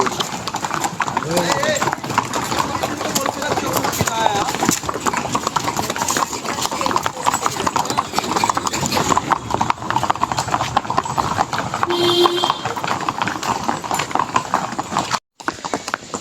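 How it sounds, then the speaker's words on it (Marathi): Horses' hooves clip-clop steadily along a Matheran hill trail in a continuous, close, even rhythm, while people talk over the hoofbeats throughout. "तर मित्रांनो आम्ही स्पॉट फिरण्यासाठी घोडे घेतलेत"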